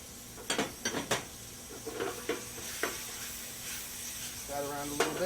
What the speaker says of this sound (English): we're going to let this saute for just a second and flavor the oil